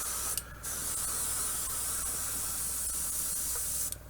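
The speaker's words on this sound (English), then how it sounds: "wiggle around the airbrush a little bit too much and spill paint all over his trousers" Airbrush spraying paint onto the underside of a Tamiya Panzerkampfwagen 38(t) Ausf. E/F model tank, a loud, steady close hiss running nearly the whole time with one short break early on.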